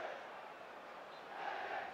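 A football stadium crowd at the Lecce versus Inter Serie A match reacts to a VAR decision with a sustained, distant roar that swells slightly toward the end.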